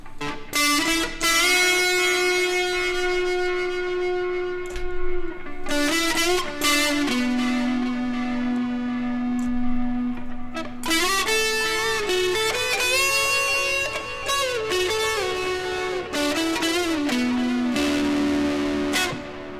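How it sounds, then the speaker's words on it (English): A distorted electric guitar plays sustained notes and short phrases with a washy reverb tail, no voices, just the instrument ringing out. "Now we're going to go ahead and add some reverb."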